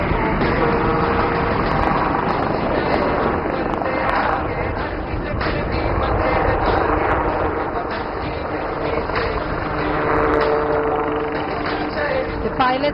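A HAL helicopter performs a rearward flight display at the Aero India 2025 air show, its rotor and engine roar steady and loud throughout, with crowd noise and a voice talking underneath.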